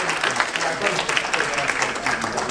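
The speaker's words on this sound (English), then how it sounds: "Another round of applause for that." A short round of audience applause during a jazz festival clinic, steady clapping of moderate loudness lasting a couple of seconds with some voices mixed in.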